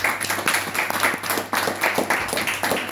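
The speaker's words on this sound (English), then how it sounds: "I want to really actually give a clap for such an amazing kirtan." A small audience claps after a kirtan, a brisk, fairly close run of hand claps with slightly uneven rhythm, lasting a few seconds.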